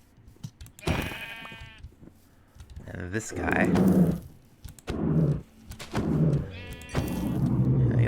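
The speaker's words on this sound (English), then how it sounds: "Is there another sheep around that isn't brown?" Sheep bleat repeatedly in a video game, several harmonic calls at moderate distance, while someone talks over and between them and soft thuds sound underneath.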